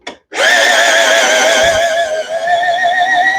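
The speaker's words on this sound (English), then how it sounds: "We'll put this into the drill, tighten it, put the drill attachment on there." A cordless drill drives a car scissor jack down, giving a steady, loud, high-pitched motor whine that starts abruptly after a brief click and holds nearly constant, with a slight dip in pitch midway.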